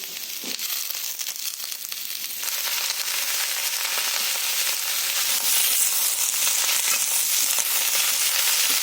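Onions and eggplant fry in a pan with a loud, continuous hiss and sizzle that swells and thickens partway through, close up and alone without talk.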